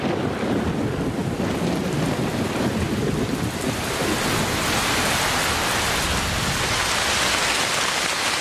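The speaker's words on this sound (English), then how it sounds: "By the end of December, the rains have arrived with full force." Heavy rain pours in the Amazon rainforest during a thunderstorm, a dense, steady, loud hiss of downpour that holds unbroken throughout with no voices.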